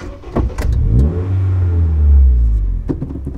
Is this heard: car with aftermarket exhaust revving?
yes